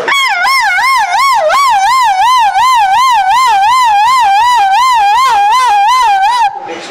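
A mimicry artist voices an ambulance siren, a loud, close wailing tone that warbles rapidly up and down in an even cycle for several seconds before cutting off abruptly.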